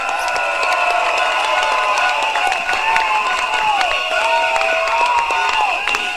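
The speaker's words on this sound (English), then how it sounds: "So another round of applause for Grace Fu." A large outdoor political rally crowd at Jurong East Stadium applauds and cheers for a candidate, a dense, sustained roar of clapping and voices with shouts and whistles rising over it, loud and close throughout.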